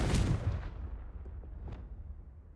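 A Confringo spell blast in the Hogwarts Legacy video game opens with a loud, booming burst that fades into a low rumble, followed by faint, scattered crackles.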